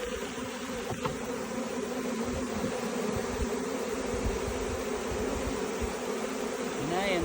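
Honey bees buzz densely around a hive at very close range, a steady, loud, droning swarm hum that fills the whole stretch.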